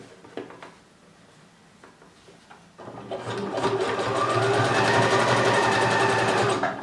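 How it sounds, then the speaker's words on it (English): A sewing machine stitches thick swimsuit fabric, starting after a few soft handling taps and then running in a steady, fast whirring drone that stays close and continuous to the end. "I will need to put my hand real near the machine because my machine doesn't like when this is very thick"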